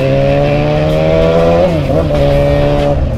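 A Yamaha YZF-R6 sport motorcycle's engine drones loudly and steadily while riding, with a brief dip and rise in pitch midway as the throttle changes.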